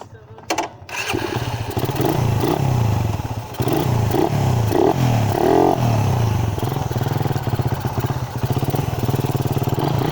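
A Raider 150 motorcycle engine cranks and catches, then idles and revs roughly with uneven surges and mechanical clatter, loud and close, with talking at points.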